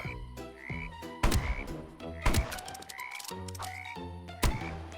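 Frogs in the Roblox game 99 Nights in the Forest croak in repeated, clipped, rhythmic calls, loud and close, mixed with sharp bursts of game sound effects and no speech.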